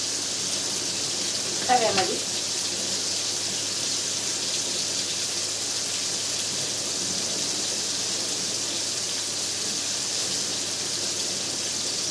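Mandeli fish frying in a pan, a steady, even sizzle and hiss that holds throughout with a brief stir-like clatter early on and no talk.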